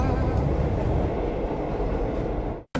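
A train runs on rails with a steady, close, broadband rumble and clatter that continues unbroken for nearly three seconds, then cuts off abruptly.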